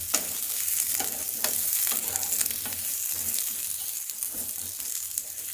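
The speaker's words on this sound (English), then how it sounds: "So without adding any salt, roast it for around 2 minutes for sure." Eggplant roasting without salt in an oiled pan over high flame, a continuous close sizzle with scraping stirs and occasional crackles at a moderate level.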